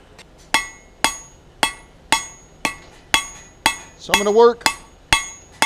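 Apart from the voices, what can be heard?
blacksmith hammering a taper on hot steel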